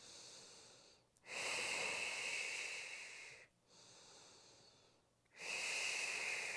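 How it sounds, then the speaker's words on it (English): Slow, deep breaths during a core and glutes exercise: long hissing inhales and exhales separated by brief pauses, close and clear. "Inhale with some tension in our core, exhale."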